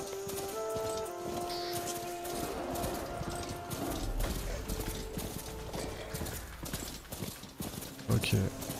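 A mount's hoofbeats in the video game Horizon Forbidden West, a steady clip-clop gallop under in-game music, with a person talking over it.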